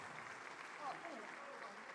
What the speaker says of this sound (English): give me a wild and resounding round of applause